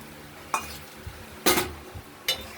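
Poppy seed paste with chilli stirred into prawns and pointed gourd in a pan, with three brief scraping strokes of a spatula over a low background, close and sparse.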